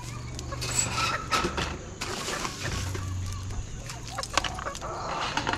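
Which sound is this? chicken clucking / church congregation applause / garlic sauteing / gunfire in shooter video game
chicken clucking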